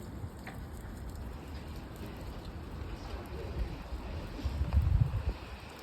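Steady rain falls outdoors in the courtyard of Kilmainham's Royal Hospital, built 1680, a soft continuous hiss with some wind noise, swelling slightly louder toward the end.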